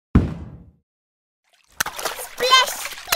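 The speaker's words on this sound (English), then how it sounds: "Splash, splash! It's fun!" Cartoon water splashing in a Barbie animated scene: a loud splash at the start that fades out, then a pause before excited cartoon voices talk over further sounds.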